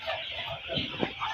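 Twenty-day-old chickens cluck on a poultry farm in a short, close burst of busy clucking and chattering from the flock.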